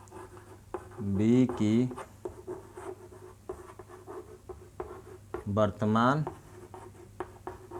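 Chalk or a marker scratches and taps on a board during a maths lesson on age problems, faint short strokes scattered between two stretches of someone talking.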